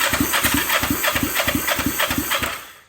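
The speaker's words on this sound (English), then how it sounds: "the engine still turns on, and it still cranks over." The 500R engine of a kraken build cranks over without spark, a loud, rapid rhythmic chug of starter strokes repeating evenly for a few seconds before cutting off.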